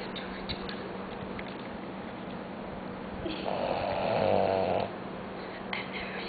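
A person snores in a low, steady rasp, with one longer, louder breath midway, heard faintly through a muffled, noisy recording.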